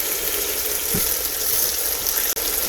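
A steady, hissy sizzle of food frying in a pot while jollof rice is being cooked, continuous and fairly loud, with a faint knock partway through.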